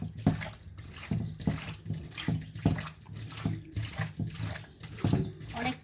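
Tap water runs and splashes in rhythmic bursts as chewa fish are scrubbed clean with salt, a repeated swishing and pouring at close range with no talking.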